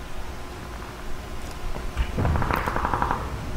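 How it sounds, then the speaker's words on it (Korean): Gunfire in PUBG Battlegrounds breaks out as a quick burst of rapid cracking shots after a stretch of low background noise, moderately loud and lasting about a second. "어휴, 우리 총소리가 나."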